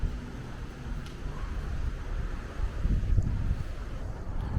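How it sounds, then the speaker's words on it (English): Steady wind buffeting a microphone outdoors at night in Las Vegas, a low rumbling roar with gusts that swell and fade, no voices. "It's a very windy night, so this might be loud."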